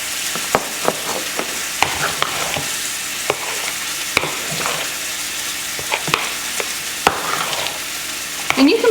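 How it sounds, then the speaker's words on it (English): Sauce simmering in a pan is stirred repeatedly, with spoon clicks and scrapes against the metal over a steady sizzle and bubbling, close and fairly loud, without talking. "Give it a nice stir"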